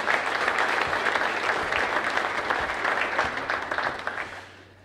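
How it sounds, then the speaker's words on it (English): Applause for staff members at a college athletic hall of fame ceremony, a steady wash of many hands clapping in a hall for several seconds before fading at the end, with no talk over it. "How about one more round of applause for all of our staff members?"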